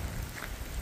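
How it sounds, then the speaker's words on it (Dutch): Rain falls steadily by an old city wall in Donauwörth, a soft continuous hiss with scattered drops, fairly close and even throughout. "Het is inmiddels wel gaan regenen."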